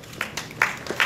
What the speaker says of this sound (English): Please give him a rousing round of applause.